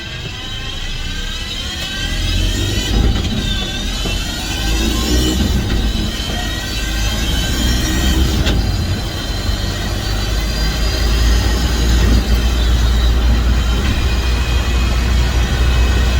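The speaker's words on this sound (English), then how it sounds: "It's a lot of fun to drive this thing down the road." Fully electric 1966 Ford F100 pickup with a six-speed transmission cruising down the highway, a steady, loud rumble of road and wind noise that continues without break.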